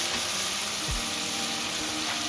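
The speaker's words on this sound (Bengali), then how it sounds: "2 মিনিট পরে খুললাম, নেড়ে দিলাম, সুন্দরভাবে নাড়াচাড়া করছি" Fish roe coated in ginger-garlic paste fries in a pan and is stirred, making a continuous close sizzle with a brief scrape of the spoon partway through.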